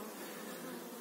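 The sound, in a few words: honeybees from a caught swarm in a trap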